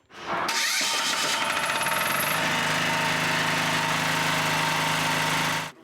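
A generator powering a mobile tyre repair and welding workshop starts up and runs steadily, a loud, close, continuous engine drone with a harsh rattling texture that holds at constant level for several seconds.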